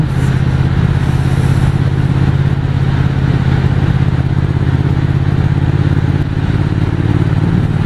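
A Triumph 1200 Speed Twin motorcycle riding a forest road on the Route des Crêtes in the Vosges, its engine droning steadily and loudly with constant wind rush, heard close from the rider's position throughout.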